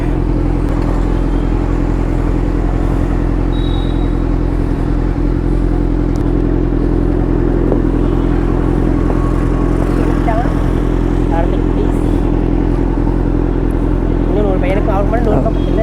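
A Kawasaki Z900 motorcycle engine idling with a steady low rumble, close and loud throughout, while people talk over it.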